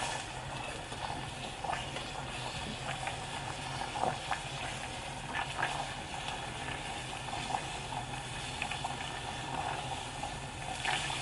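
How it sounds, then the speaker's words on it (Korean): A pot of Ottogi instant sundubu jjigae, a soft tofu stew, boils steadily: continuous soft bubbling and light sizzling with small pops, close by and fairly quiet, with no talking. "올볼 끓는 순두부찌개 조금만 더 끓여주고 먹어볼게요."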